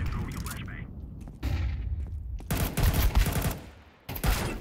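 Gunfire from Counter-Strike on the Inferno map: bursts of rifle shots and impacts in rapid clusters, loud and close, broken by short lulls, with game noise throughout.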